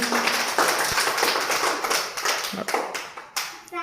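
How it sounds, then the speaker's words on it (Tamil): Young children in a classroom clap their hands together after a number-counting lesson; a loud, ragged burst of quick claps that keeps going and thins out unevenly, with faint voices mixed in. "கை தட்டுங்க."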